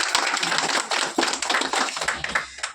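Audience applause at an indoor business presentation event in Goghat, Hooghly, a dense steady clatter of many hands clapping throughout, fairly close and without speech.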